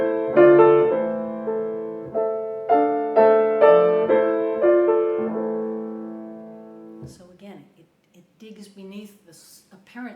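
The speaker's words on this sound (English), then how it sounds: "The music, though, is almost hymn-like and somewhat sacred." Poulenc's art song "La Dame d'André", hymn-like and sacred in character, with slow chords struck in a steady pulse and sustained tones for about seven seconds, then fading as a voice begins talking.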